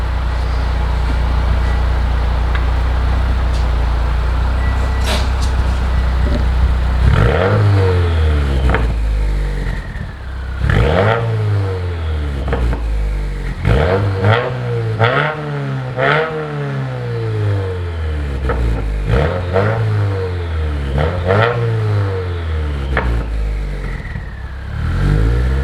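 A Subaru WRX fitted with an Invidia Q300 exhaust idles, then pulls away with repeated rising revs and gear changes, each surge swelling and dropping in a steady cycle of acceleration, heard loud and close.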